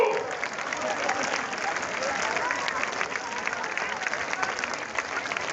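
Crowd at the Gorakhpur zoo inauguration applauds continuously, a dense wash of many hands clapping at steady volume with no break.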